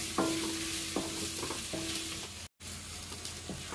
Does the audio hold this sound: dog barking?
no